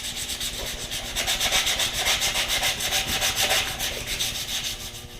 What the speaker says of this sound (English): I'm just going to sand it down before we put a clear coat on it